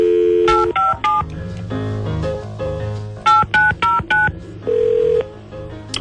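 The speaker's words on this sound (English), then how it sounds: "let me dial him up" Touch-tone telephone dialing of a phone number: a series of short, loud DTMF beeps in quick bursts, with pauses between groups of digits.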